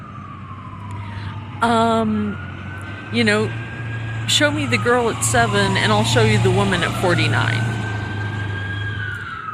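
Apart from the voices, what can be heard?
emergency vehicle siren passing by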